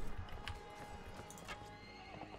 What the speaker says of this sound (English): I guess I can shoot this horse.